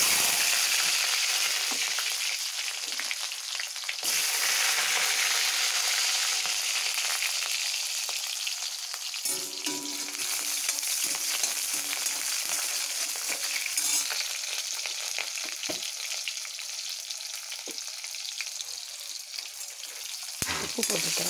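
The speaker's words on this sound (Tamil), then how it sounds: "நல்லெண்ணெய் சின்ன வெங்காயத்தை போடுறேன்." Small onions sizzle steadily in hot sesame oil, a dense frying hiss that runs throughout with occasional stirring scrapes and clinks.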